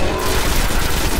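Rapid, powerful gunfire from a player's weapon in the video game Destiny, a continuous loud barrage of booming shots with no pauses.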